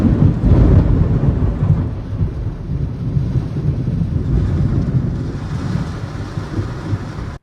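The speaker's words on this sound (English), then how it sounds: "That's how hard it was raining." Heavy rain pours in a dense, constant roar with low rumbles of thunder and wind buffeting the microphone throughout, steady and loud with no voices.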